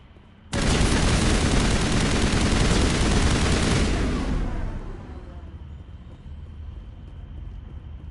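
Rifle fire in Mass Effect erupts as a sudden loud sustained burst of rapid gunshots for several seconds, then cuts off and tails away into a low lingering hum.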